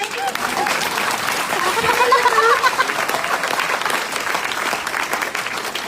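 An audience at a Hindi motivational talk by a speaker for RCM claps together, a dense sustained round of applause that swells in the middle and carries on throughout, with some crowd noise underneath.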